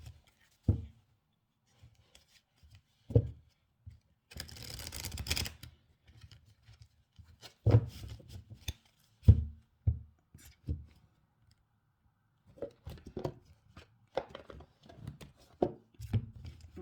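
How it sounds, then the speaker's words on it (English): A deck of cards is flipped through and shuffled by hand in a quiet room, with soft riffles, short papery bursts and taps coming in irregular clusters separated by silent gaps, close and alone. "Let me just flip through these and just give them another quick shuffle."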